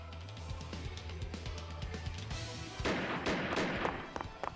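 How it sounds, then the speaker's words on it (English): Gunfire from both sides rings out in the visual novel game Piofiore: Fated Memories. Sharp repeated shots crack over a steady musical backdrop and grow denser and louder toward the end. "Hearing gunfire from both sides, I ran through the night as my men requested."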